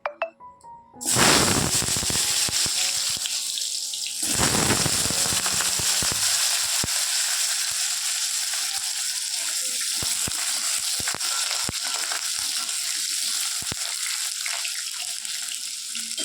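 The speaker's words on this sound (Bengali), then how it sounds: "এদিকে তেল গরম হয়ে গেছে বন্ধুরা, এই যে আলুটা একটু ভেজে নিই।" Potatoes frying in hot oil with a pinch of turmeric and salt, a loud steady broadband sizzle that bursts in about a second in and stays dense and continuous, flecked with small crackles throughout.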